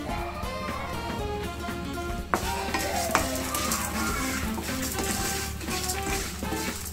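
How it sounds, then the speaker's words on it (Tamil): Drumstick leaves for podi roast in a pan over a slow flame, giving a steady close sizzle with soft stirring scrapes and a few sharper clinks of utensil on pan. "ஸ்லோ ஃப்ளேமில் வச்சு வருங்க, அப்போ தான் டேஸ்ட் நல்லாயிருக்கும்."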